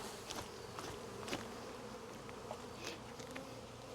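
A steady, low buzzing of many honey bees around hive frames, fairly quiet and continuous, with a few individual bees droning a little louder as they pass close by.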